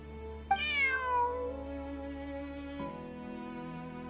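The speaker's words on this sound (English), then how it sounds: "Bonnie is Pierre's cat" A single drawn-out cat meow from the video game Genshin Impact, clear and close, sliding down in pitch and followed by a steady tonal game background with no talk.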